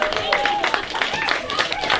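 Audience applause after a debate on self-driving cars, a dense, steady clapping from the crowd with voices and cheers mixed in throughout.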